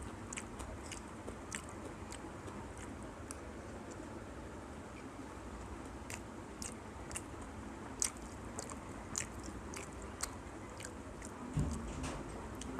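Someone eats spicy chicken noodles, with soft, scattered biting and chewing sounds close to the mouth over a quiet background, coming in irregular bursts.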